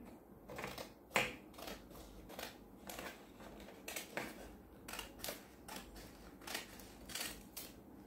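Scissors snipping through folded craft paper while making a fraction kite, a series of short crisp cuts and rustles spaced irregularly, faint and close, with no talking.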